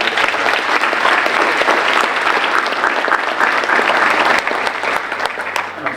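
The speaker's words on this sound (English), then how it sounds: "A round of applause for all of our" Loud, sustained applause from a large audience at the 2017 McGuffey High School senior awards ceremony, dense clapping that stays full and steady throughout.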